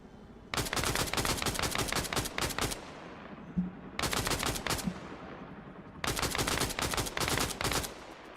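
Rapid automatic gunfire in the video game Arma Reforger, loud and close, coming in three long sustained bursts separated by short pauses, with no talk over it.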